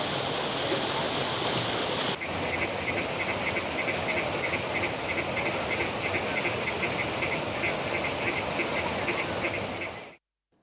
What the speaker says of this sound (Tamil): புதிதாக கட்டப்பட்ட தடுப்பணை முழுவதுமாக நிரம்பியதால் மதகு வழியாக தண்ணீர் திறந்துவிடப்பட்டுள்ளது